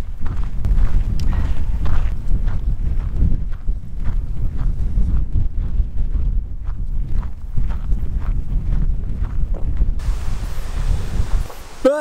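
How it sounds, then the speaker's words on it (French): Strong wind gusting across open flat ground on the GR70 Stevenson trail, a steady loud low roar with buffeting against the microphone and footsteps crunching beneath it throughout. "Dès que tu es comme ça sur du plat, il n'y a rien pour arrêter le vent."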